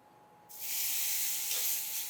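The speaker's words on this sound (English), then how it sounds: "Nice little sizzle there." Skirt steak hits a hot grill pan on high heat and instantly breaks into a loud, steady sizzle, a bright hiss that holds strong to the end.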